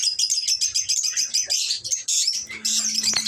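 Caged pet birds chirp and tweet in quick, overlapping high calls that run continuously and close by, with a steady low hum entering toward the end.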